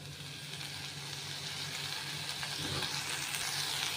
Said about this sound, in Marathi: आता भाजी हलवून घेतो आपण।